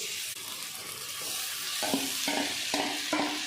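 Cauliflower pieces frying in oil for gobi manchurian, a continuous close sizzle with a few soft thumps as pieces are dropped in one at a time.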